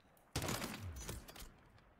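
Gunfire in Call of Duty MW3 arrives as a sudden crack followed by a quick cluster of shots that fades out over about a second, fairly quiet overall.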